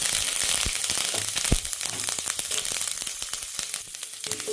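Chana dal, urad dal, a chilli and curry leaves sputter and crackle loudly in hot oil, a dense continuous sizzle with sharp popping bursts throughout, close and without talk.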